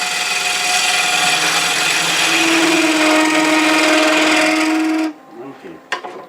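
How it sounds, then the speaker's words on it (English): Wood lathe spinning a stacking box blank as a beading and parting tool cuts it, a loud steady whirring hum with a rising scraping tone, then it stops abruptly and a few faint knocks follow. "So I'm going to use the beading and parting tool for that."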